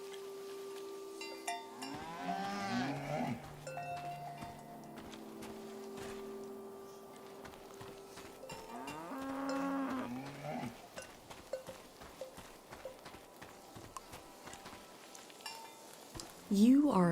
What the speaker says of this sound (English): You are a cow and you are named Kresnahorkai.